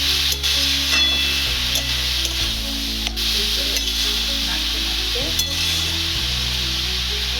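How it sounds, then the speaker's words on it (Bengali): Bottle gourd and mung dal are stirred in a hot pan. A spoon scrapes and clinks against the metal in an irregular rhythm over a steady sizzle, close up and without speech. "দিয়ে দিয়েছি এবার নাড়তে থাকবে এইভাবে"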